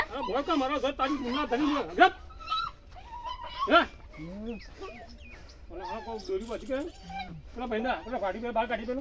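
A dog whimpers and yips in high, wavering whines, mixed in with people talking nearby, after being rescued from a well.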